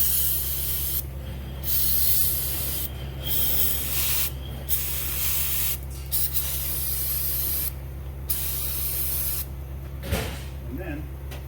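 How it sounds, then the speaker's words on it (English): Brake cleaner sprays onto the starter wiring of a Ram truck in a series of loud, hissing aerosol bursts, each lasting about a second, with short gaps between them. "all I'm going to do is brake clean the wiring really good"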